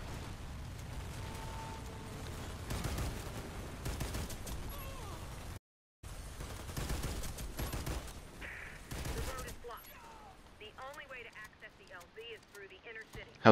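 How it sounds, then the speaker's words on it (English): Shotgun blasts in Warface, heavy and repeated through the first part, followed by a person talking over quieter game sounds. "How good is this shotgun?"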